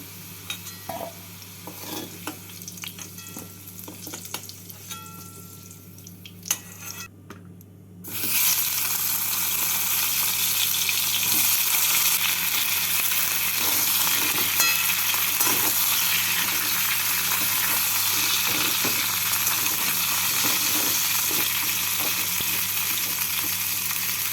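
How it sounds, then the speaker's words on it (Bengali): Pointed gourd fries in the oil left over from frying potatoes, giving a soft sizzle with stirring at first, then a loud, continuous crackle and hiss for the rest of the stretch. "এই তেলের মধ্যে পটলগুলোকেও লাল করে ভেজে নেব"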